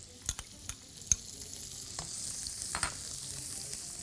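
Butter and garlic sizzle quietly in a pan as the base for a sauce, a soft, steady frying hiss broken by several brief scrapes and clicks of a utensil stirring.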